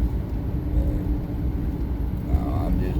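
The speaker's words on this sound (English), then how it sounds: "I'm just driving along." A car drives along steadily with a continuous low engine and road rumble, someone talking over it throughout.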